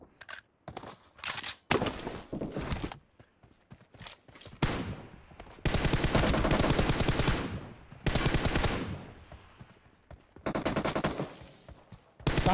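Gunfire in the mobile shooter Battlegrounds Mobile India during a one-on-one team deathmatch, with rapid machine-gun bursts of varying length broken by short gaps and single shots, loud and close.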